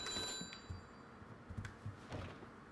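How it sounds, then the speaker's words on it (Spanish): A phone rings in The Godfather video game, faint repeated bell tones with soft thuds around them in an otherwise quiet scene. "Ah, mira, nos están llamando."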